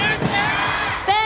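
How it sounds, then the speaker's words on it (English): Esports crowd at the Honor of Kings World Cup grand finals chanting a slogan in unison, a loud, dense wall of massed voices with a brief swell at the end. "喊出你们的口号，好吗？"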